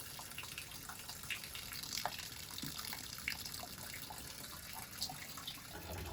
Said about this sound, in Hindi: इसके लिए मैं ड्रम को वापस से भरने वाला हूँ